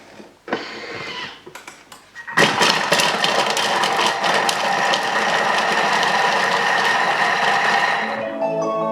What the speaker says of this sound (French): Et il va mixer 5 secondes, vitesse 5.